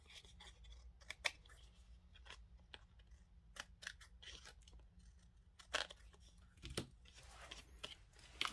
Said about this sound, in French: j'ai pris un grand ciseau parce que c'est beaucoup plus pratique